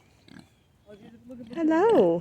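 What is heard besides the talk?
Kunekune pig grunting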